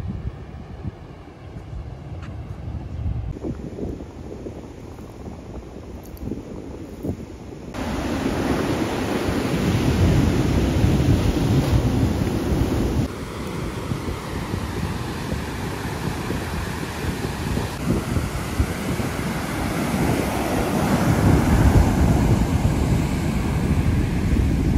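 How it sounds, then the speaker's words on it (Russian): Atlantic surf breaking steadily on the coast of Benin, a continuous broad wash of waves close by with some wind buffeting, growing louder toward the end; no talking. "Дальше в видеоролике просто шум прибоя, вид на Атлантический океан"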